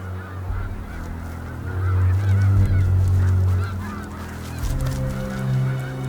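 Geese honking loudly and repeatedly in the wild as they defend against a small predator, harsh overlapping calls rising and falling close by, with no voices.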